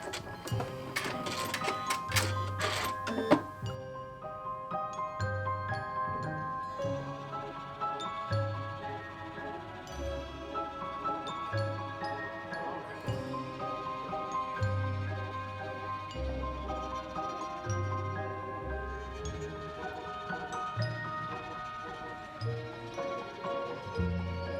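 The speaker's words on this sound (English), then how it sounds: "Once I nailed those settings, it was time to stitch out all 6 buttonholes." A sewing machine stitching out six buttonholes on a black Wednesday Addams-style dress bodice, its motor whirring in short repeated bursts under steady background music.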